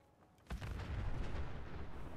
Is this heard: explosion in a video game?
yes